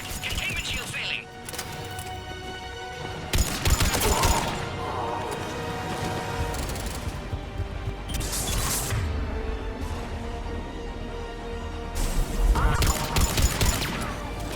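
Gunfire in the video game Mass Effect Legendary Edition, with repeated bursts of shots and crackling impacts in several clusters, moderately loud under background music and effects.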